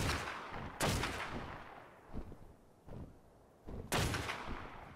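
Gunshots in the video game Ark: Survival Evolved, four or five separate sharp reports spaced about a second apart, the loudest at the start and near the end, with no talk.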